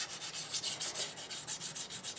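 Paint being sanded back by hand on a model of the refit starship Enterprise, a quiet rhythmic scratchy rubbing in steady back-and-forth strokes, close up and alone.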